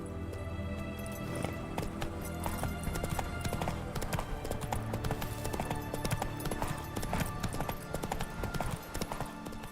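Horse hooves clip-clopping at a quick run in The Witcher 3 after the rider urges it on, steady and close under layered game music, with no talk.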